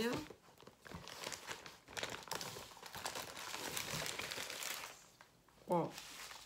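A small zipped pouch holding a rhinestone kit is opened up close, with soft crinkling and rustling of plastic packaging running throughout and a brief louder scrape near the end; a voice talks faintly at moments.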